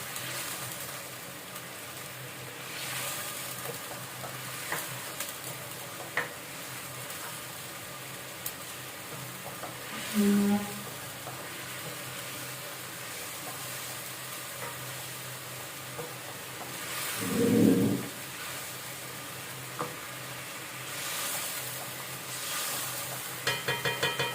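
Chicken karahi with gourd being stirred in a pan after coriander and garam masala powders go in, a steady soft sizzle running throughout with two brief louder scraping bursts, no talking.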